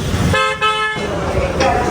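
Car horns honk in a Bangladeshi traffic jam, one long steady horn blast sounding close over road noise, with brief fainter toots and a voice talking nearby.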